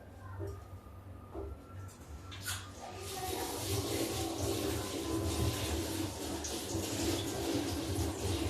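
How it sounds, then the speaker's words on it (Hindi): Poha, flattened rice, is washed in water, with soft sloshing and splashing that builds partway through and continues steadily, close and moderately quiet. "ये देखिए अब इसको हम धुलते हैं 2 पानी से।"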